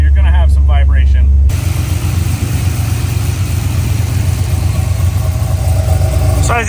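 Turbocharged Ford Fairmont street race car idling with its exhaust cutout closed, a loud steady low rumble that starts abruptly after a brief stretch of speech and continues unbroken.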